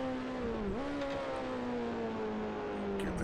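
Grand Prix Legends racing game car on the Isle of Man course near Quarter Bridge, a loud sustained engine whine with a clear downshift step and pitch changes as revs fall, alone and close.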